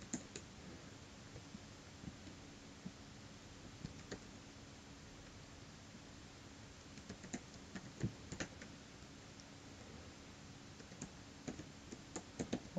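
Email address and password being typed on a computer keyboard, faint irregular key clicks scattered over quiet background hiss, some taps in quick bursts, others spaced apart.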